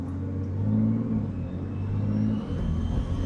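A turbocharged 900 HP BMW G80 M3 pulls hard under acceleration, heard from inside the cabin as a loud, steady engine drone and rumble that swells and holds for a few seconds, with no talking.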